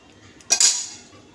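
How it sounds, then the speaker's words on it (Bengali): A single close metallic clank and short scrape of a spoon against a pan while Bombay duck fish is stirred in a simmering gravy, followed by a quick fade to near quiet. "তো এবার এটাকে ভালো করে এরকম নাড়িয়ে দেবো"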